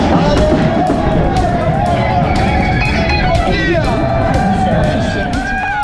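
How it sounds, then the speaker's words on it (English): Roadside crowd on Mont Ventoux clamouring as items are thrown from the Tour de France sponsor caravan, dense babble and shouts with scattered whoops and cheers, loud and close throughout. "And the inevitable clamour for anything that's thrown into the crowd."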